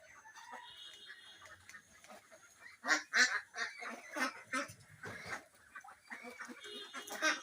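A flock of two-month-old white Pekin ducks on a duck farm, honking and quacking together in loud, overlapping bursts that swell and continue without pause, with no talking.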